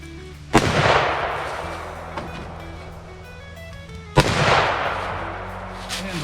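Rifle fitted with a red dot sight fired during fast-paced shooting at a barricade, two sharp loud reports about three and a half seconds apart, each followed by a long echoing decay outdoors.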